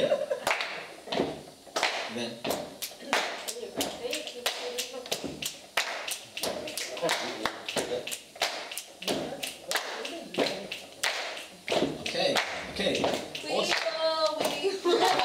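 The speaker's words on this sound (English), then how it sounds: "So it's gonna go stamp, clap, stamp, clap, stamp." A group keeps an alternating rhythm of foot stamps and hand claps, sharp, loud, evenly spaced hits repeating steadily, with some voices faintly mixed in.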